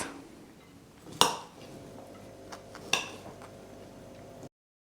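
A few sharp clinks of utensils against a bowl, two louder knocks among quieter scraping and tapping as vinaigrette salad is tossed, close by.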